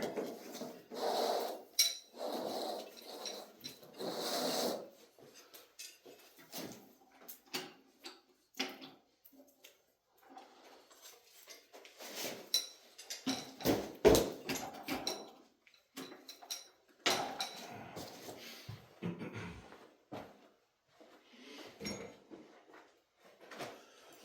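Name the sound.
adjustable spanner wrench being handled on motorcycle nut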